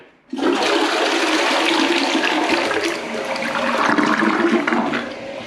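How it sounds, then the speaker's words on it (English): A cheap hardware-store toilet flushes hard and loud, a sudden powerful rush of water kicking in and roaring steadily for several seconds up close. "That thing's got a violent flush."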